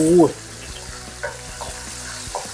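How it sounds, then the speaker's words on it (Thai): Sliced pork loin stir-fried with fragrant garlic in a pan for giant fried rice: a soft, steady sizzle runs throughout, with light scraping stirs at intervals and a brief louder clatter at the start. "เอาหมูสามสันเอาลงไปผัดครับ ผัดหมูให้สุกก่อน"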